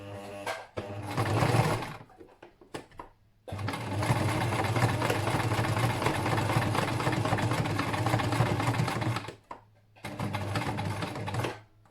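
A sewing machine stitches a triple-layer fabric face mask, running in bursts: a short run, a pause with a few ticks, then a long steady stitching stretch followed by another brief run, close up with no talking.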